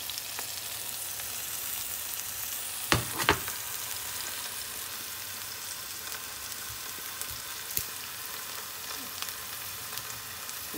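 A steak fries in a pan with coconut drizzle, a steady close sizzle with a couple of sharp pops and crackles rising above the hiss, no voices.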